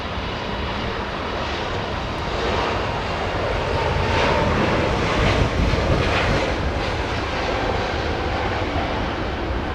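A Boeing 777 airliner's jet engines roar steadily at a distance, swelling slightly in the middle and holding a broad, continuous rumble throughout with no talking.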